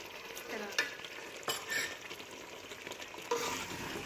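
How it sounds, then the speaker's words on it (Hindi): Chicken kofta in a creamy masala with black pepper and garam masala fries in a pan while being stirred: a soft, continuous sizzle with a few louder spoon scrapes, heard close and quiet without voices. "और इसको अच्छी तरह से भून लेंगे।"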